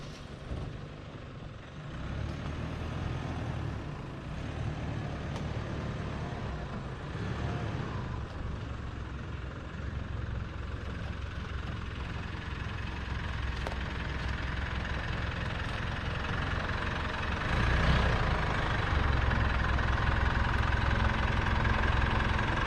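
A ute engine runs steadily at a low idle-like rumble through the whole stretch, close and continuous, with a slight rise in level near the end as the vehicle is moved at a campsite.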